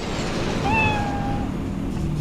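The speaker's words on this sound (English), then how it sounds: "It's a kitty." A cat in Cyberpunk 2077 gives one clear, rising meow over a low game ambience, short and close.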